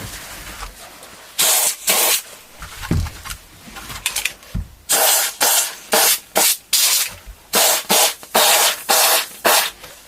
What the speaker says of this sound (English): very dramatic compressed air to blow some of that dust away